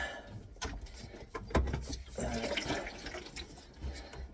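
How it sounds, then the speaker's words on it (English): Water from a kitchen faucet supply line drains into a bucket during a Moen Birchfield faucet install, a steady trickling wash with a few knocks and clunks. "so that's draining in the bucket there"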